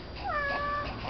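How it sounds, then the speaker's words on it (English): A cat gives a single close, rising-then-falling meow of about half a second. "Is that the kitty cat?"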